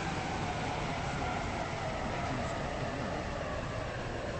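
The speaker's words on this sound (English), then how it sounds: "This train is now approaching Benton Bridge." A train in the Stepford County Railway video game rolls steadily along the line, a constant broadband rumble and hiss with no pauses, moderately loud and with no talk over it.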